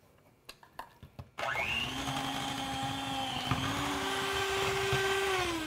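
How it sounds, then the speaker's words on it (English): After a few soft knocks, a hand mixer switches on and whirs steadily while whipping lavender body butter, a loud close motor whine that shifts slightly in pitch as the mixture thickens. "or I'm gonna be using a hand mixer."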